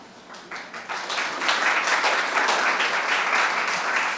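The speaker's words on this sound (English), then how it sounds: "Thanks for clapping." Audience clapping at a youth award ceremony, starting as a few scattered claps and swelling into steady, full applause from a room of people, held at an even level.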